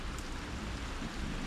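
Steady rain falling outdoors, a dense, even hiss of drops filling the whole stretch without pause, fairly loud and close, with no talk over it.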